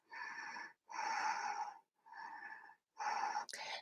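Four deep, audible breaths taken while holding a yoga pose in a vinyasa power flow, each a long airy rush through the mouth or nose, close and clear with short silent gaps between them.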